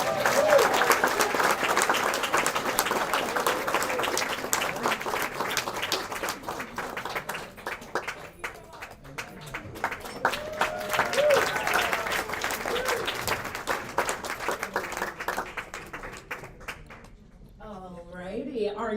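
Audience applause at a tenth-anniversary Pawanka Fund live-streamed event, a dense wash of clapping filling most of the clip, with speech also present.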